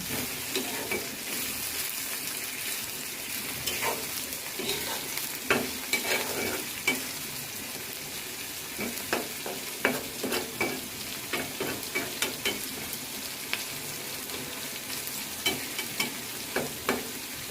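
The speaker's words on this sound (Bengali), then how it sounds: "তারপর ভালোভাবে এগুলো মিক্স করব" Dried ribbonfish bhuna with chopped garlic and salt sizzles in a pan while a spatula scrapes and stirs it in a quick, irregular rhythm of clicks over a continuous frying hiss.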